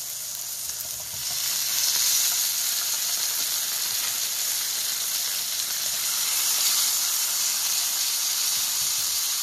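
Tomatoes hit a hot pan of garlic and burst into a loud, steady sizzle that swells after a brief quieter moment and keeps hissing evenly throughout.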